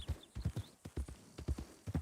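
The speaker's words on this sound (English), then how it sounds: "Heard a horse over here." Horse hooves clip-clop in a steady, quick rhythm in the video game Red Dead Redemption 2, fairly quiet and close, with no talking over them.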